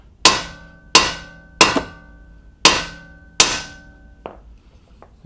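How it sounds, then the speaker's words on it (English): Hammer blows on a MINI Cooper tie rod end, five sharp ringing metallic whacks at a steady pace, each decaying with a clang, followed by a few softer knocks as the loosened part shifts. "whack it with a hammer a few times and it should fall right out"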